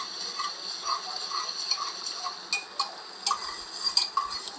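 Mutton keema with black masala is sautéed and stirred in oil in a pan, light rhythmic scraping and ticking of a spoon against the pan over a soft, faint sizzle, with no talking.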